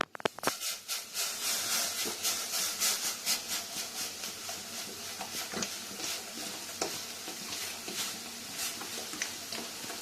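Cola poured into a pot seethes and fizzes as it heats, a close hissing crackle with rippling bubbly pulses that starts after a brief knock and continues evenly to the end.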